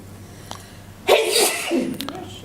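A single person sneezes sharply at close range in a quiet room during a hypnosis training session, followed by faint movement and background voices.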